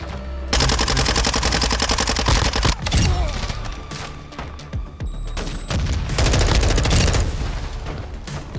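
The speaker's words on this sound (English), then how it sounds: "Taking effective fire." Sustained automatic gunfire and heavy shooting in Warzone 2.0 DMZ, with rapid bursts that run almost continuously and loud, close booms and impacts throughout.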